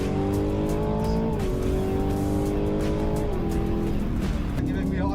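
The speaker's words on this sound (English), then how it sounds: "became surprisingly vulnerable when he climbed into the car with safety car driver Bernd Maylander at COTA" A safety car driven at racing speed around the Circuit of the Americas, its engine roaring steadily with pitch steps as gears shift, loud and close from inside the cabin, with faint tire noise.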